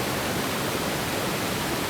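Floodwater from Hurricane Ida surges through a normally calm Smoky Mountains river near Gatlinburg, a loud, unbroken roar of rushing water close by with no other sounds.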